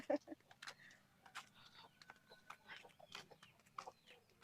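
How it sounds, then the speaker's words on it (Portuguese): Chickens and chicks cluck in a village community: a scatter of short, fairly close clucks and chirps at an irregular pace, with people talking nearby. "parece uma galinha ali. Sim, tem as galinhas querendo fazer exercício."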